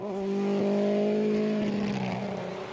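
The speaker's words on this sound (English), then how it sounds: "That is still a very sick-sounding Mini." A Mini rally car with a freshly replaced exhaust manifold and an ailing, rough-running engine on a snowy Rally Sweden stage, its strained, steady drone holding loud and close with harmonic whine before easing slightly at the end.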